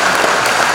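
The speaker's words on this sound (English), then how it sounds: "Let's give another round of applause to Dr. Kelley" Applause from a lecture audience after a Q&A session, a dense, steady clatter of many hands clapping at close range, loud and unbroken for under a second.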